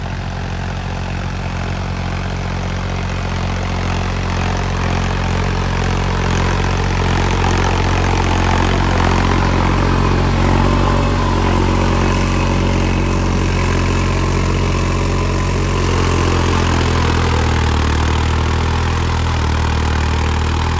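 A Deutz Fahr 70 hp tractor engine runs loud and close, a heavy, continuous low rumble that holds steady for the whole stretch with no voices.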